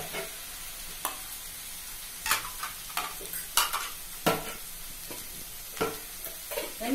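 Onions fry in a pan for a mushroom pepper gravy while a spoon stirs them, producing a low background sizzle broken by repeated scraping and clinking strokes at irregular intervals, close by with no talking.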